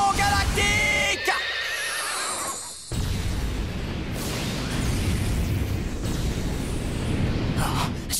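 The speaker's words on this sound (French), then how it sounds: "Coup spécial! Pegasus, explosion galactique!" The Pegasus galactic explosion special attack from a Beyblade film: a horse whinny cry at the start, then a loud, sustained roaring blast with rushing noise and bursts continuing to the end.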